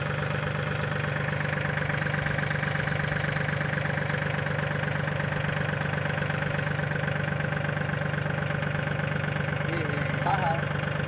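A tractor engine idles in a custard apple orchard during spraying, a steady mid-low droning hum that holds constant throughout while people talk over it.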